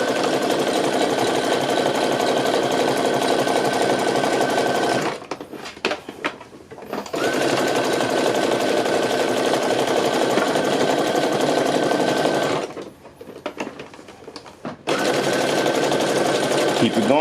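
A sewing machine stitches a handmade waistband in long, steady whirring runs, pausing briefly twice with faint handling noises before starting again.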